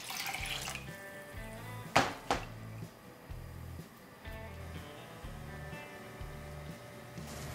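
Soaked urad dal being rinsed in fresh water, with soft sloshing and swishing in a bowl, a couple of sharper splashes, over steady low background music.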